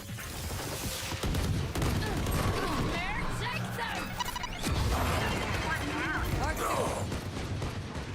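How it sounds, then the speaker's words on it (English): A weapon reloads in the Valorant video game, with mechanical clicks and clacks mixed into continuous in-game gunfire, ability effects and voices at steady loudness. "Reloading."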